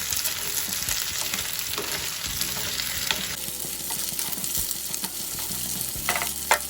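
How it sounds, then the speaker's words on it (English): Onions sautéing in a pan for home-style chilli chicken, giving a steady, close sizzle and crackle with occasional stirring scrapes throughout, no talking. "I'm going to add my onions as well. I'm going to just let them saute."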